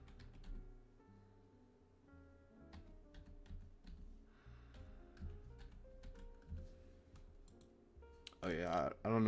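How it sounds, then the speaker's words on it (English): Quiet, irregular clicking of computer keyboard keys during a live trading stream, soft taps in uneven bursts with faint talk and a louder burst of noise at the end. "Oh yeah, I don't know what I was typing."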